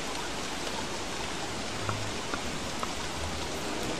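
Steady rain falls in the survival video game Don't Starve, a soft, even hiss of rainfall with a few faint drips and ticks, heard alone at low level.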